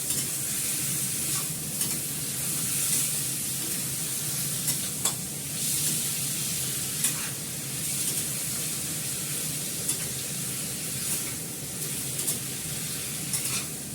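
Meat and potatoes sautéing with salt and turmeric in a pan, a steady close sizzle and hiss with periodic stirring scrapes and clinks throughout.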